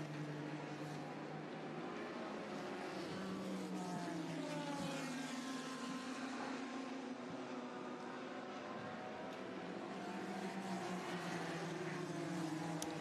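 Group C endurance race cars at the Le Mans Classic 2018 on the final lap, engines droning continuously at steady loudness with shifting pitch sweeps as cars pass, no voices.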